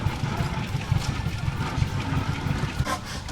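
An antique gas engine at an engine show chugs at a steady idle, a quiet rhythmic low thumping, with faint background noise.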